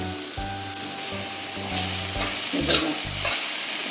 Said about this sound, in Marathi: मध्ये मध्ये ढवळत राहिलं की ती खाली भांड्याला चिकटत पण नाही म्हणून ढवळायची